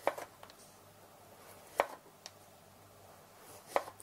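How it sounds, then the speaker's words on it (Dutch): A knife slices beef into strips on a cutting board in a few sharp, separate strokes, with quiet pauses between them; close and crisp, no talking. "Ik ga ze in sliertjes snijden."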